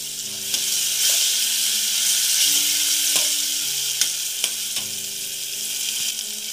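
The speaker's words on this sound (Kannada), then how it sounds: "ಇದಾದಮೇಲೆ ಹಸಿಮೆಣಸಿನ ಪೇಸ್ಟ್ ಕೂಡ ಹಾಕೊಂಡ್ಬಿಡ್ಬೇಕು. ಒಂದು 2 ಮಿನಿಟ್ಸ್ ಫ್ರೈ ಮಾಡಬೇಕು" Green chilli paste frying in a pan, a loud continuous close sizzle with occasional stirring scrapes and clicks throughout.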